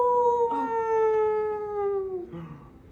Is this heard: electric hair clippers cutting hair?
no